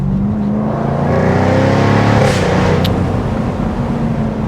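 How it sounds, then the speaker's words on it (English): A 2024 Jaguar F-Type R75 AWD convertible drives hard, its engine droning loudly from inside the car with a brief shift from its ZF 8-speed gearbox partway through, no voices. "That ZF8 speed snaps in between gear changes when you're driving aggressively."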